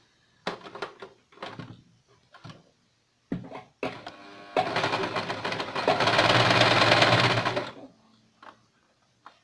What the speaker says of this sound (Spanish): Ahora las voy a coser.